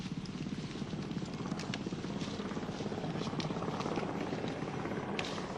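A military helicopter thuds steadily and loudly close by as it comes in to land at a jungle clearing, its rotor beat continuous throughout without any voices.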